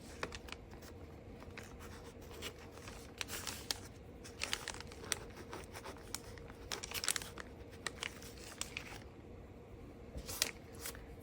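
Scissors snip and paper crinkles as a paper picture is cut out, a run of quiet, close, irregular cuts and rustles over a faint steady hiss.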